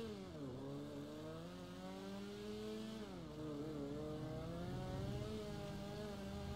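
A fast car in GTA V roars steadily, its engine and exhaust revving loudly with rising and falling pitch sweeps that run unbroken throughout.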